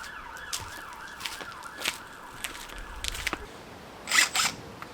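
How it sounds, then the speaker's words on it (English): A faint wailing siren rises and falls in the distance beneath scattered clicks and rustles, followed by a couple of louder bursts near the end. "I'm hoping that siren is not some sort of premonition."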